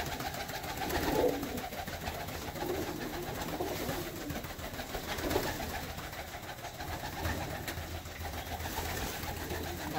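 Domestic pigeons coo softly and repeatedly in a loft, their low rounded calls overlapping against a steady background hum with no talking.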